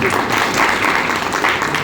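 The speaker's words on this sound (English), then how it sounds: "Let's give them a round of applause." A round of applause from a congregation at a church leadership session, dense steady clapping from a room full of people, close and loud for a short burst.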